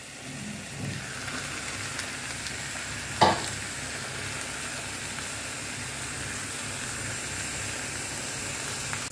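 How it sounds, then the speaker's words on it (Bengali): Marinated chicken frying in a pan, a steady close sizzle with a single sharp clink partway through. "এই ম্যারিনেশনের মশলাটা আমি দিয়ে দিলাম, কেননা এপিট ওপিট করে একটু কালার এসে গেছে চিকেনে"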